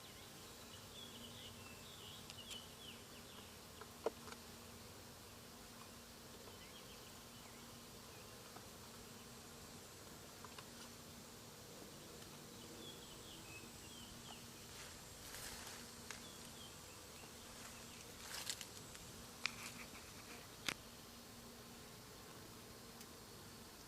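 A soft, constant hum of bees flying around an open backyard beehive, with faint wingbeat whine rising and falling and an occasional nearer bee buzzing past, otherwise quiet outdoors.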